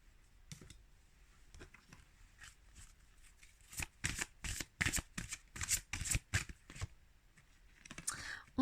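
Tarot cards riffle and snap in a rapid run of crisp, close shuffles, building from scattered flicks to a dense burst of repeated card slaps before easing off, with soft handling noise around them.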